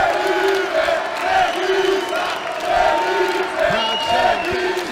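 A large crowd at a jiu-jitsu match roars and cheers continuously in an arena, with whoops and shouted cries rising and falling over several seconds.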